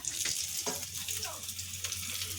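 Dal and Maggi cooking on a home stove give a quiet, continuous sizzle with a low steady hum underneath and a few soft clinks.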